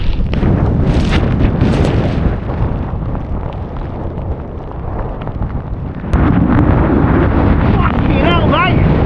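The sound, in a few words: strong gusty wind on Snowdon summit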